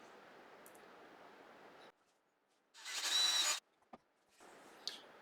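A small 6mm drill bit bores a hole into a wooden woodturning piece, giving one loud, steady whirring burst of about a second between quieter stretches of lathe or machine hum.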